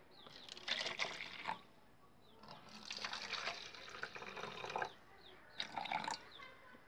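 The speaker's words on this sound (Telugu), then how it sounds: "దీనిలోకి కొంత వాటర్ తీసుకుంటున్నాను." Water is poured into a jar in three separate splashing bursts with short pauses between them, quiet and close by, with no voices.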